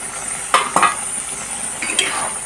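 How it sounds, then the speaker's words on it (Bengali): Fried potatoes being stirred into a spiced masala in a pan, with a steady oily sizzle and a few sharp scrapes of a spoon against the pan, close up and with no talking. "দিয়ে দিলাম আলুটা দিয়ে একটু কষে নিই"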